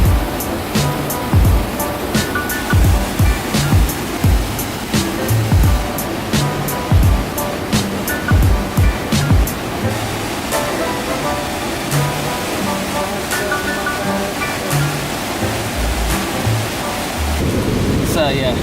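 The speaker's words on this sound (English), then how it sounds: "It's the biggest waterfall in Southeast Asia due to its width" Broad, steady roar of Khone Phapheng, a very wide waterfall in Laos, rushing water filling the whole clip at close range with occasional thumps and gusts over it.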